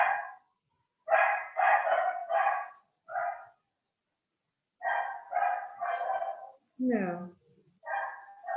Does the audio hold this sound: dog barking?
yes